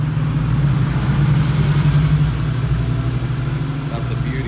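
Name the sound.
Porsche car arriving, engine running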